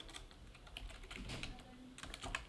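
Rapid typing on a computer keyboard, an uneven run of light clicks close to the microphone, heard alone and quiet.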